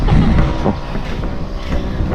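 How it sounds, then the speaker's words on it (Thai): Wind gusts buffeting outdoors in rural Thailand, a rough low rumble that swells and eases over a couple of seconds, loud and close as if striking the microphone. "ลมมา ลมมาเย็นดีพี่น้อง"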